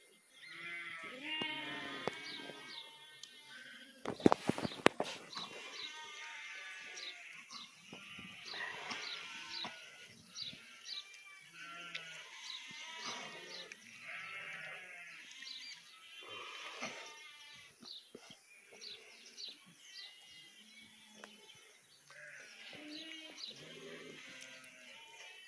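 Ewe bleating during a difficult birth being assisted, repeated strained cries near the listener in irregular bursts, with a sharp handling noise early on, faint birdsong and occasional quiet human voices.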